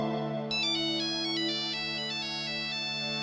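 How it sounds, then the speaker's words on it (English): The first Nokia mobile phone ringtone, a simple electronic melody of short repeating beeping tones over a steady hum, fairly quiet and clear. "the very first Nokia ringtone, this ringtone"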